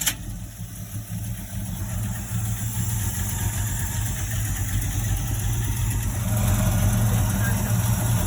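An old Holden Torana fitted with a Toyota KE70 engine runs at a steady, fairly loud idle with a low rumbling drone, and the engine note rises a little near the end.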